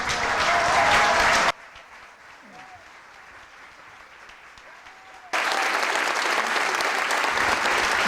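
An audience at a music-and-medicine lecture on Tchaikovsky breaks into loud, dense applause, which cuts to a quiet pause and then returns just as strongly.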